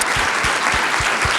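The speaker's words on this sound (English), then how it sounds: "give them a round of applause as well" Audience at a fireside chat gives a CEO a round of applause, a short, steady stretch of full clapping throughout, without voices.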